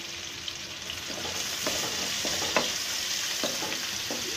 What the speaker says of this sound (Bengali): এখন আমি দিয়ে দেবো হাফ কাপ পেঁয়াজ। পেঁয়াজ কুচি দিলাম।